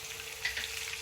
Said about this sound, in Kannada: ಕಟ್ ಮಾಡ್ಕೊಂಡಿರೋ ಬೆಳ್ಳುಳ್ಳಿ ಹಾಕಿ ಬಾಡಿಸ್ಕೊಳ್ಳಿ. ಹಾಗೆ ಫ್ರೈ ಮಾಡ್ಕೊಳ್ಳಿ.